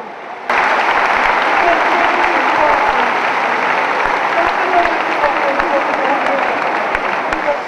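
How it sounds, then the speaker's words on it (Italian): Long, loud applause fills an indoor sports hall as coffins arrive carried on shoulders, starting abruptly after a quiet moment and continuing as a dense, steady roar of clapping with some crowd murmur beneath. "il palazzetto dello sport si è sciolto in un lunghissimo applauso"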